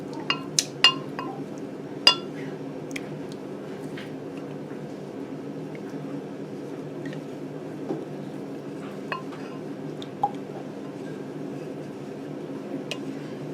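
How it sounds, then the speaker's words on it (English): Clinks and taps of a utensil against a bowl, a few sharp knocks early on, then sparser scrapes over a low steady background hum. "Scrape out anything that remains."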